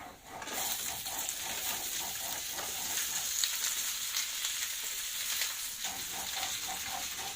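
Vegetables sizzle steadily in hot oil in a pan during home cooking, a continuous close crackling hiss with faint stirring and no talk.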